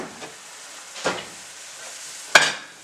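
Canned diced tomatoes being mixed around in a pan for marinara sauce, a faint wet hiss with a few soft stirring scrapes and one sharper clink, close and quiet.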